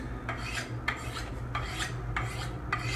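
A knife is sharpened on a Ken Onion Work Sharp at a 40-degree setting, making a steady rasping grind that swells in five regular strokes about every half second, close and loud, with no voices.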